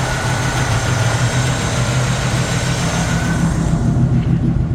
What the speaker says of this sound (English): Hear how nice the engine runs.